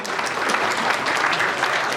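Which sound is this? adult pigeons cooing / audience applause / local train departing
audience applause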